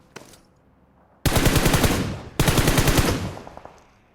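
Two long sustained bursts of loud, close machine-gun fire in the PUBG battle royale game, each rattling for about a second, with a faint earlier shot before them.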